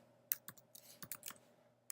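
Quiet typing on a computer keyboard in a Linux terminal while installing the Eclipse IDE: a handful of separate light key clicks, irregular in spacing, with one sharper tap near the end over a faint steady hum.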